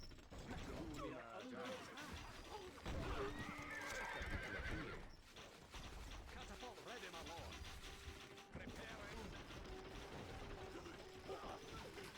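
Horses whinny amid a busy Stronghold Crusader Definitive Edition game soundscape of clattering hooves, mechanical clanks and battle noise, with someone talking over it.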